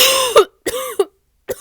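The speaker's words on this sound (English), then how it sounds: "I always cough when Spirit is here" Several close, loud coughs and throat-clearing bursts in quick succession, each harsh and voiced, separated by short silences.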